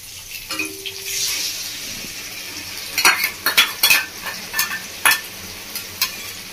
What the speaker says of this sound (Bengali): তাহলে এবার মধ্যে দিয়ে দেবো কেটে রাখা পোস্তটা